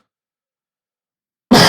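A single short, loud cough bursts out abruptly after a stretch of total silence during a podcast-style conversation, cut off right at the end.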